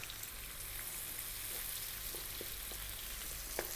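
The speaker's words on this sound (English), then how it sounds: "I'm going to drop in that half cup of onion, the 1 tablespoon of chopped garlic" Half a cup of onion and a tablespoon of chopped garlic sizzle in a pan just above medium heat, a steady close frying hiss with a few faint stirring ticks and no talk.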